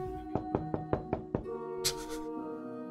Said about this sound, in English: The door is locked, so I should probably knock.